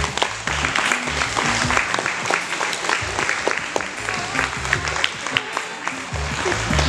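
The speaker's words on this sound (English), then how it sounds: "give yourselves a round of applause" A banquet audience claps steadily for several seconds, the sound uneven and close, with scattered individual hand claps standing out and some murmured voices mixed underneath.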